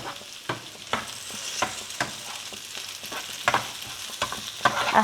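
Okra stirred and fried in a pan for a South Indian thoran, a continuous sizzle punctuated by repeated scraping and tapping of a spoon against the pan.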